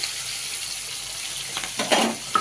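Crushed garlic and five green chilies sizzle in hot oil, a steady close frying hiss that swells near the end with a few louder crackles as they settle in the pan.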